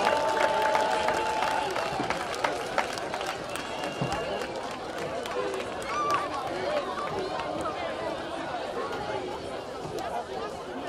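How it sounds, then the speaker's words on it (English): A stadium crowd at a high school homecoming football game claps and chatters for honorees, the scattered applause fairly distant and mixed with crowd babble and voices. "Let's do get a big round of applause to our girls basketball WCAC champions 2008."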